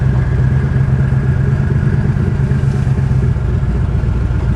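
A 1967 Chevelle SS with a twin-turbo, injected engine idles through open headers, a loud, steady, rumbling drone that holds without change throughout.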